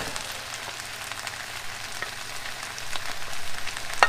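An egg frying in a pan for eight jewelled fried rice, a steady close crackling sizzle that grows slightly busier toward the end, with no voices.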